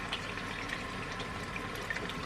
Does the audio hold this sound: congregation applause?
no